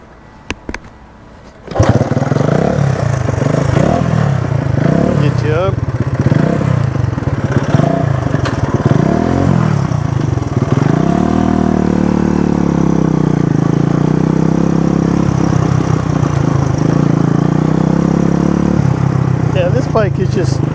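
A vintage Honda CB125 motorcycle, restored as a cafe racer, is kick-started and then runs with a loud, close, buzzy single-cylinder idle that rises and falls through several revs before settling into a steady run.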